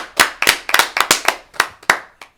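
Podcast hosts clapping their hands, about ten sharp, close claps in an uneven rhythm, some landing in quick pairs, with silence between them and no talk.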